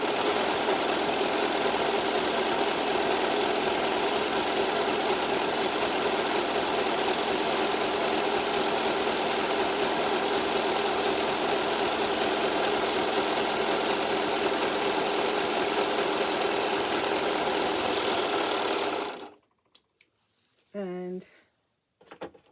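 A Singer Profinish serger sews a straight seam with a loud, steady, continuous motorized hum. It stops abruptly near the end, leaving a few quiet clicks and a short voiced sound.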